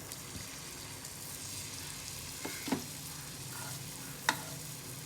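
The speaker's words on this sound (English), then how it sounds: "we are directly dropping the batter into the oil and letting it fry" Spoonfuls of vada batter, from an MTR instant Medu vada mix, drop into hot oil and fry with a low steady sizzle, broken by a couple of sharp plops and spatters, with no talk.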